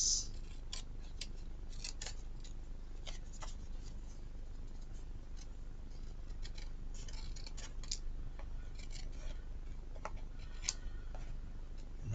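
Scissors trim excess paper from a handmade rocker card, making quiet, irregular snips and light paper rustles close by at low volume, with no talking.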